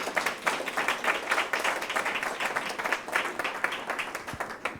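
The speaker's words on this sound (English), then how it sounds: "maybe a little round of applause for our artists here" Steady applause from an audience honouring the muralist artists at a Health Professions Building artist talk, a dense, even wash of many hands clapping throughout.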